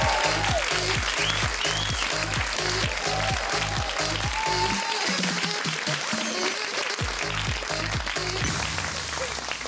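A TV studio audience gives sustained applause for a guest, loud, dense clapping with a rhythmic beat of music underneath, a brief gap midway, then more clapping.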